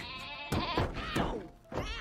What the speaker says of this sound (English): Where's the calming goat?